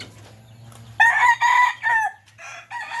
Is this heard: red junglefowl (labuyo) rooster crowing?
yes